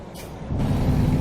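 Air brakes on a Western Star 49X semi truck in American Truck Simulator give a hiss that swells into a loud, steady low rumble and whoosh over about a second, with no talking.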